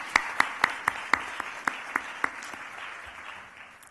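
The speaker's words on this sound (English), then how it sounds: "please rise and we can give you a round of applause" Audience applause at a South Asian philanthropy conference: a crowd claps steadily, with a few sharp, prominent claps standing out at first before the sound thins and fades away.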